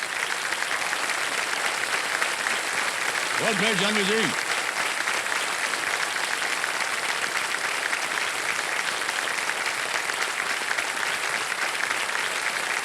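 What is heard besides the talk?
studio audience applause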